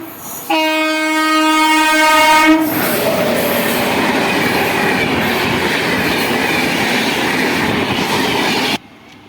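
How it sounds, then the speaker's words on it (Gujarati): A MEMU train arriving at Hathuran village railway station in Gujarat sounds a long loud horn blast, then rolls in with a steady rumble and rail clatter close by. "જો તેજ તર્રાર ગાડી આવી રહેલી છે હથુરણ ગામના સ્ટેશન પર"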